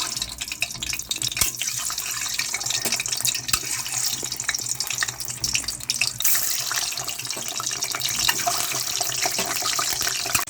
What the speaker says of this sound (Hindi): एक एक करके इसमें हम अंडा डालेंगे।